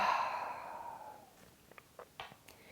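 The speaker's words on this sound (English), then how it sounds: "Exhale out through your mouth." A slow, audible exhale out through the mouth during a yoga breathing exercise, a soft breathy sigh fading over about a second, followed by quiet faint clicks and small sounds.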